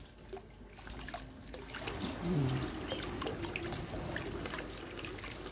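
Water runs steadily from a garden hose in a rural backyard, a continuous trickling splash at moderate distance with no talking.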